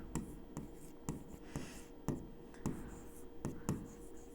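Pen or marker writing out a maths answer on a board or paper, with sharp regular strokes and taps about every half second, close and fairly quiet, no voices.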